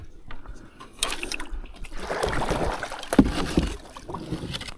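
Kayak paddle strokes and water splashing on a river, close and uneven, with a few sharper splashes near the middle and brief voices in the background.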